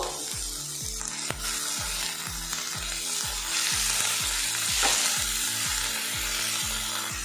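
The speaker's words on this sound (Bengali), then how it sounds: "টমেটো আমি কিন্তু পেঁয়াজের সাথে উল্টে পাল্টে একটু নাড়াচাড়া করে নিয়েছি" Chopped tomatoes and fried onions with ginger and garlic sizzle in a hot pan while a spatula stirs them in regular, repeated scraping strokes, close and continuous, with no talk.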